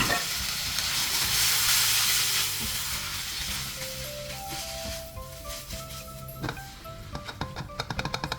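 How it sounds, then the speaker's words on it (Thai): Loud, steady sizzling of rice noodles (mee sua) stir-frying in a pan with garlic and mushrooms that gradually eases, followed by a quick run of scraping and clattering utensil strokes, with soft music underneath. "แล้วก็ใส่เส้นหมี่เสื้อลงไปผัดเลยค่ะ"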